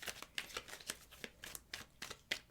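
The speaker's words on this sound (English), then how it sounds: "let's just get a couple good shuffles in here for the 2 5s" Tarot cards being shuffled by hand, a run of crisp, papery riffling bursts arriving at an irregular, quick rhythm, close and fairly loud with no talk over them.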